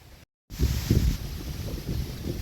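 Loud wind buffets the microphone in heavy rumbling gusts after a brief cut to silence, steady and close with no voices.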